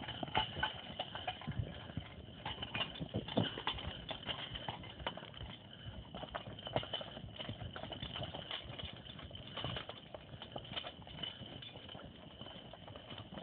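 Irregular clip-clop of a logging horse's hooves walking steadily over rough ground in woodland, faint and somewhat distant, with light rustling throughout.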